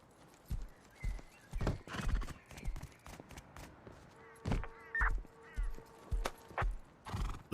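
In the Rust video game, a horse being fed lets out repeated neighs and whinnies over rhythmic hoof clops. The bursts come close and loud in regular pulses, with faint background ambience between them.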